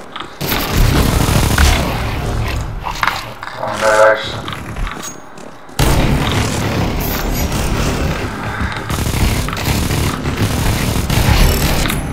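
Bomb blast in Counter-Strike 2, a loud boom rolling into sustained rumbling and crackle that cuts off briefly and then surges back, with a voice talking over it.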